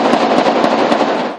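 Gunfire crackles in a dense, rapid burst during a police armed raid on a house, loud and continuous like a string of close shots, ending abruptly.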